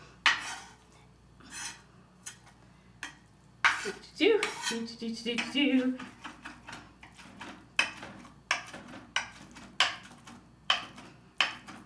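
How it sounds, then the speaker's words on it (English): A knife dices vegan, gluten-free hamburger mix on a cutting board in a run of sharp, close, evenly spaced chopping clicks, with a brief scraping shuffle of the ingredients partway through. "I'm gonna give it just one more dicing, just to be absolutely certain"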